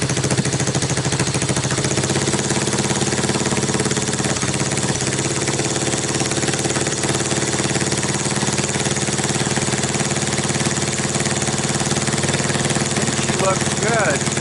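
ATV engine running on a bench right after a key start with the choke on, a loud, steady, close idle with a continuous buzzing drone throughout.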